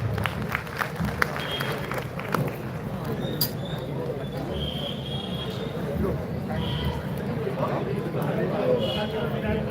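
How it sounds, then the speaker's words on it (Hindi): Applause from a crowd welcoming the chief guest at a large Hindu gathering in Vijaygarh, a fairly soft, steady patter of clapping with scattered voices and noise mixed in throughout. "जोरदार तालियों से स्वागत करें सब।"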